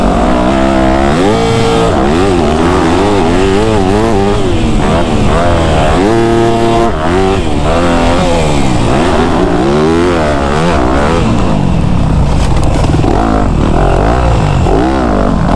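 Dirt bike engine revving and straining loudly and continuously while riding through deep, loose sand on a dirt bike vacation, pitch rising and falling with throttle, close up throughout with no clear pauses.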